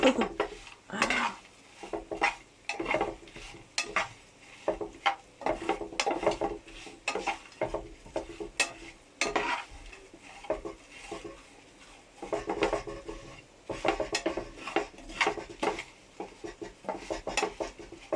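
Dried anchovies fry in a pan in a home kitchen in Albania while snow falls outside, with a spatula repeatedly scraping and clinking against the pan over a low sizzle and no talk.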